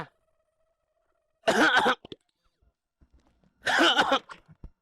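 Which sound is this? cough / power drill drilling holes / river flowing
cough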